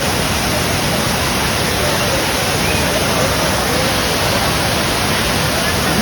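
Thirparappu waterfall in Tamil Nadu roars as a steady, loud, unbroken wash of falling water that fills the whole stretch evenly, with no other sounds standing out.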